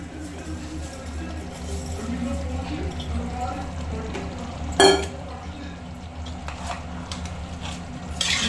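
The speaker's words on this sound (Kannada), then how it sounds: "ಅಕ್ಕಿ ಹಾಕಿ ಮಿಕ್ಸ್ ಮಾಡಬೇಕು" A spoon stirs soaked rice into chicken fried with green chilli, tomato and masala in a pot, a steady low scraping and sloshing with one sharp clank near the middle, set against a continuous background hum.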